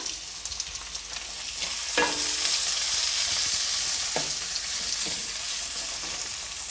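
Tomatoes sizzle steadily in a hot pan for upma, a constant bright frying hiss with a few scraping stirs breaking through.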